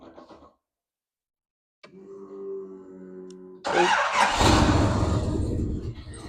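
A 1965 Backdraft Cobra's engine cranks with a whirring starter, then catches and roars to life loudly, settling into a rough, powerful idle close by.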